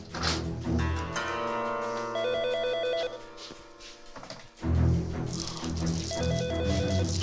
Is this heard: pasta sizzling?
no